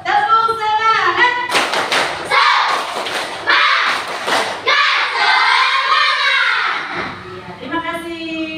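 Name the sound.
students doing a rhythmic spirit clap (tepuk semangat)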